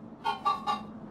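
Chickens in the Minecraft Story Mode video game cluck in three quick, fairly quiet bursts over a low background hum.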